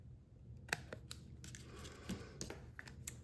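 Scissors cut card for a birthday card, a short series of faint, crisp snips and rustles at irregular intervals, close up and without talking.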